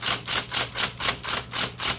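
A 1960s Smith Corona Coronet Automatic 12 typewriter clacks along in an even rhythm, about eight sharp key strikes in two seconds, loud and close with nothing else in the room.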